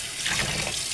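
Tap water running over peanuts being rinsed in a sink, a continuous bright splashing hiss lasting about a second with no voices.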